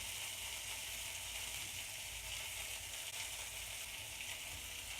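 Bacon crisps in a cast iron pan with a dense, continuous sizzle that crackles evenly and loudly throughout, with no other sounds over it.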